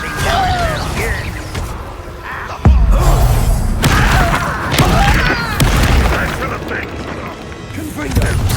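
Explosive spells blasting in Hogwarts Legacy combat, with repeated heavy booms and cracking impacts in quick succession, layered with whooshes and shouted spell words.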